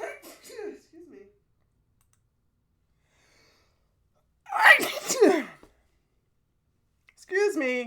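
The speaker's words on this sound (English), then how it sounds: "Allergy sneezing." A single sharp sneeze in the middle of a quiet stretch, with brief bits of speech before and after.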